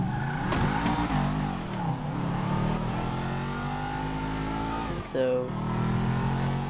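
A car engine in GTA 5 revs and accelerates with rising and falling pitch, steady and close, a brief dip near the end before it climbs again, with a voice speaking over it.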